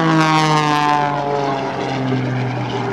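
An aerobatic propeller airplane flown by Patty Wagstaff performs at the 2006 AirPower Over Hampton Roads air show, its engine a loud, close, droning roar with a pitch that slowly falls as it passes.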